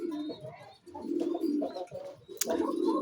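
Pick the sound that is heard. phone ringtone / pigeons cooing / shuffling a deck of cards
pigeons cooing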